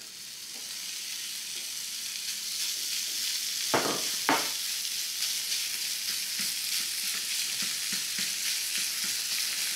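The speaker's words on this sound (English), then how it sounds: "we're ready to cook the bacon. Just put it in my little saute pan here." Bacon frying in a small saute pan, a continuous crackling sizzle that builds after two sharp spatters near four seconds, with light stirring scrapes and no talking.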